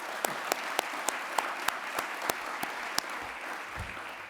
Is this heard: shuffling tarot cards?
no